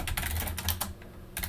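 A command typed on a computer keyboard in a quiet room, a quick burst of roughly a dozen close, crisp key clicks in uneven rhythm, with a brief pause near the end before the last strokes.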